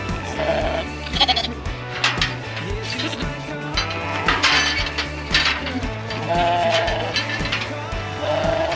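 Ewes and lambs bleat repeatedly in a close flock, overlapping calls of varied pitch over a steady low hum and some clattering.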